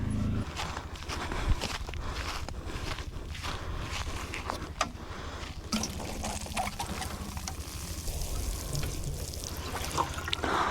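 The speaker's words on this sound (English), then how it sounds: "All that's left to do is water it" Water from a hose or can pours steadily onto the soil around a newly planted loquat tree in an off-grid garden, a continuous close splashing trickle with soft thumps and shuffling.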